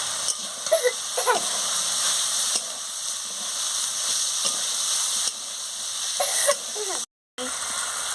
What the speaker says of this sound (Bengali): আলু আর কড়াইশুটিটা মশলার সঙ্গে দিয়ে দিচ্ছি দিয়ে মশলার সঙ্গে ভালো করে কষিয়ে নিচ্ছি